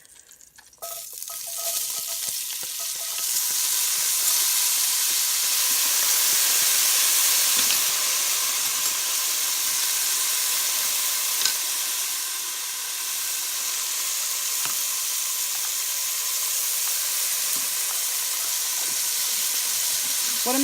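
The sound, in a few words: onions frying in olive oil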